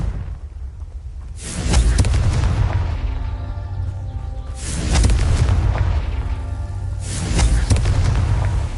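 Three heavy booming blasts from the Confringo fire spell in Hogwarts Legacy, each a sharp loud burst followed by a rumbling roll-off, spaced about three seconds apart with no talking.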